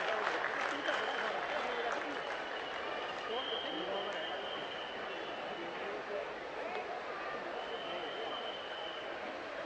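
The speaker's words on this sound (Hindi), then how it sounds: "जोरदार तालियों के साथ अभिनंदन करें श्री भूपेंद्र यादव जी का।" An audience at a Holi Milan gathering and poetry event claps in welcome for minister Bhupender Yadav, a steady wash of applause heard from some distance at low level, with faint crowd murmur underneath.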